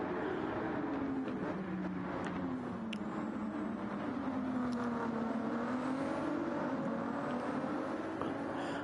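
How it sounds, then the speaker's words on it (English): Ferrari race car engines drone in a racing video game, a continuous mid-level whine that rises and falls in pitch as the cars rev and shift, heard fairly faintly and steadily without talk. "Loving the sound of these Ferraris. They do sound nice and clunky."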